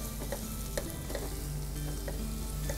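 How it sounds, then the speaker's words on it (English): Onions and chopped leeks being mixed in a soup pot, a steady close sizzle with a few soft scraping strokes of the spoon, no voices. "Give it a good mix."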